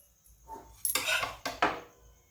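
Roasted Konkani bhanole is lifted from the pan onto a metal plate with a few sharp scraping clatters of utensil against metal, quiet and close, with brief pauses between strokes.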